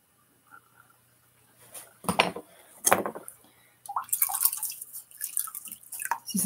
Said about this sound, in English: Squeeze out your sponge really good.